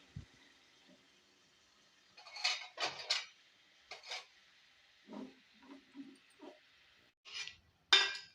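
Cooked rice is tipped into a pan for pulihora, with clinks and scrapes of a metal spoon against the pan in short separate bursts, close and fairly quiet.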